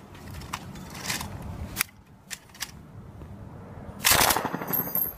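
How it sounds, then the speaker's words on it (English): An M249 machine gun fires in short, loud bursts, with a rapid rattle near the start and a stronger, denser burst near the end. "Place the weapon on fire and pull the trigger."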